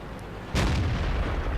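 A single heavy tank cannon boom in World of Tanks erupts abruptly after a quiet moment, followed by a rumbling tail that lingers against steady background noise.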